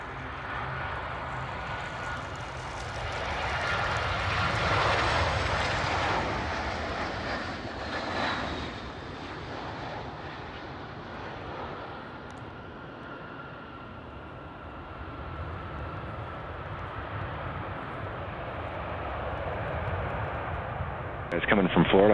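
A NASA DC-8 jet taxiing at Anchorage airport gives off a steady, loud engine roar and whine that rises and falls gently throughout, with radio chatter and voices heard over it.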